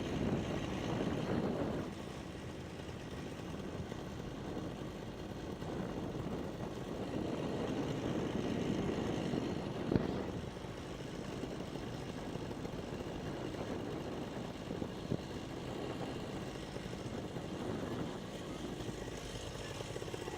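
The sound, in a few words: powered paraglider (PPG) engine idling during power-off landing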